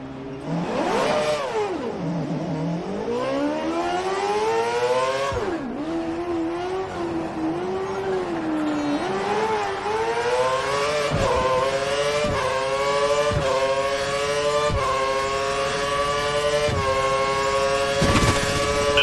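A Formula One car in the racing game F1 2013 at Yas Marina, Abu Dhabi, revs loud and close, its engine whine climbing and dipping through repeated gear shifts as it accelerates hard out of a hairpin, with steady road roar underneath.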